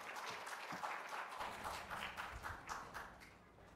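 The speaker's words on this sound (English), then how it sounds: "Let's clap unto the Lord and welcome Reverend Eugene Howe" A church congregation applauds at a live worship service, a dense, steady wash of many hands clapping at moderate loudness throughout, with no voices standing out.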